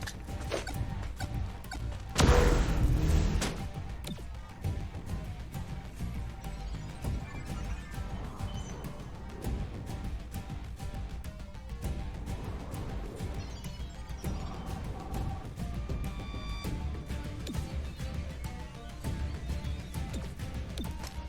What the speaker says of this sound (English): Smashing explosion.